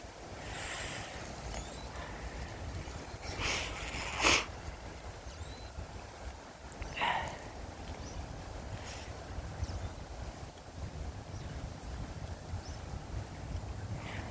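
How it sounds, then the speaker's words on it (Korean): Strong wind blows steadily across an outdoor feeding spot, a low continuous rushing with a few louder gusts and rattles, fairly faint overall and without speech. "바람이 많이 분다"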